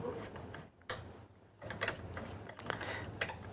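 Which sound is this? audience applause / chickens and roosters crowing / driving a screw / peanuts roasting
driving a screw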